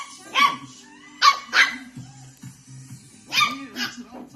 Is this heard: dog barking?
yes